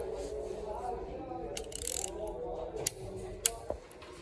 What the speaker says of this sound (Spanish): Y estamos apretando los tornillos a 10 newton.